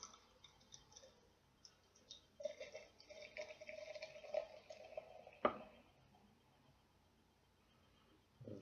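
New Holland Imperial Hatter beer pours quietly into an IPA glass, a soft steady trickle with faint clinks and a sharp knock of glass partway through, then fading to near quiet.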